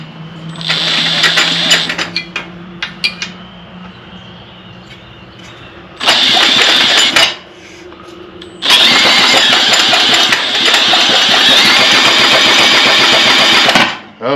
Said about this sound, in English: I'll use the drill to turn it.